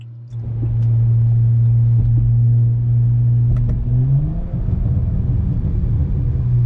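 A BMW E92 335i with N54 engine and new downpipes idles with a deep steady rumble, then revs up sharply and roars as it launches and accelerates hard, loud and close.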